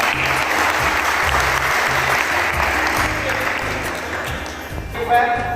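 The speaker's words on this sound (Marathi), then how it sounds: "जोरदार त्यांनी टाळ्या व्हावं" Audience applause at a youth day celebration honouring an Olympiad achiever, a sustained burst of clapping from a crowded hall with a rhythmic low musical beat underneath, tapering slightly toward the end.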